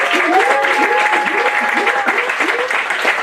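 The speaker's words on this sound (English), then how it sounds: "First of all, give up a huge round of applause for all the acts that are back there." A comedy show audience in London applauds steadily, a dense, even clapping from a full crowd heard close for a few seconds.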